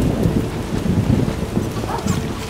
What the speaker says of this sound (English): I detest this weather. It rains and it pours.